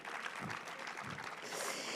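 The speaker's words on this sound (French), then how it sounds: "Mais oui, applaudissez-vous!" Audience applause in a cinema hall at the closing ceremony of the Saint-Jean-de-Luz International Film Festival, a short burst of steady, full clapping that swells slightly toward the end.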